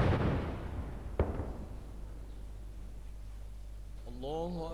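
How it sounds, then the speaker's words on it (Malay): A single cannon shot from a 21-gun salute marking the Hijri new year booms out over steady broadband noise, followed by the start of a chanted call to prayer at the end. "Tembakan meriam sebanyak 21 das dilepaskan sebagai menandakan kedatangan awal tahun Hijrah"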